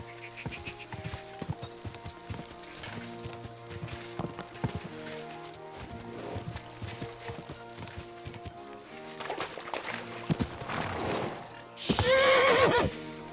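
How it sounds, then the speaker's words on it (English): Steady clip-clop of horse hooves throughout, ending in a loud, shrill horse neigh, with a game-like musical backdrop, from the video game Kingdom Come: Deliverance II. "Easy, good horse."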